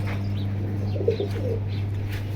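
Soft coos from caged pigeons at a pigeon sale rise briefly over a steady low electrical hum, with a few faint chirps scattered in the background.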